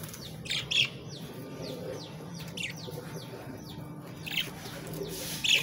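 Small parakeets chirp and tweet in repeated short, bright calls close by, scattered across the clip over a low steady background hum, with a few louder bursts near the start and end.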